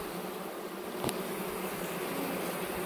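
Honey bees from a newly installed package hive buzz in a steady, close, continuous drone, with one brief sharp click partway through.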